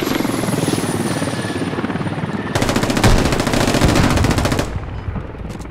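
Sustained automatic gunfire in the Squad video game, a loud rapid burst of shots lasting a couple of seconds over the steady drone of a helicopter, with no talk.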